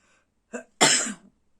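A single sneeze from a person seated indoors, a soft sharp intake followed by a loud, breathy burst that fades quickly into silence.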